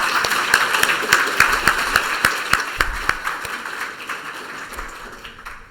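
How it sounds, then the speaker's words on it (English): Sparse clapping at a staff and provider wellness presentation, a small audience giving scattered, distinct claps that thin out and fade toward the end. "We can give them another round of applause."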